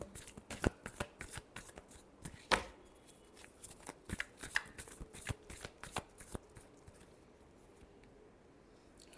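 Tarot cards being shuffled in a quiet room, a run of close, crisp riffling flutters and soft slaps, irregular bursts with short pauses between them.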